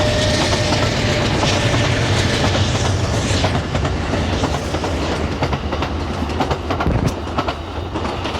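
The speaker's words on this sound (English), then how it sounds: "we've got a train that's heading north up towards Seattle" A train passes by Chambers Bay heading north toward Seattle, a loud, close, continuous roar with steady clickety-clack of wheels on rails throughout, no voices.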